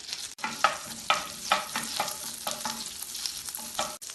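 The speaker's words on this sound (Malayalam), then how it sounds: "വെണ്ണ ഉരുകുമ്പോൾ ഇതിലേക്ക് 1/4 ടീസ്പൂൺ ജീരകം ഇട്ട് ഫ്രൈ ചെയ്യാം." Cumin seeds sizzling and frying in melted butter in a pan while being stirred, a steady close crackle with regular scraping strokes of the spoon.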